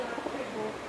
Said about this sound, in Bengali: এই যে দেখুন কিরম ডাকছে, মানে নর পায়রাটা।